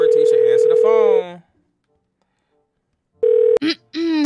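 A phone call in GTA roleplay: a sustained ringback tone sounds close and loud, cuts to silence, then returns briefly with a click before a voice answers.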